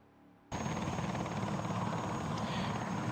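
A helicopter in a truck racing video game at Mars Speedway cuts in abruptly and holds a loud, steady rotor-and-engine roar for the rest of the clip, with no voices.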